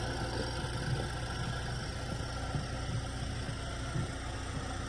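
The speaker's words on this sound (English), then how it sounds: "The motor runs beautiful." A 2.4-litre Chevrolet Equinox engine idles steadily with a low, even rumble and faint rhythmic ticking, continuous throughout with no voices.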